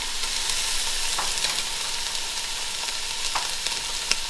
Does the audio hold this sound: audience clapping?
no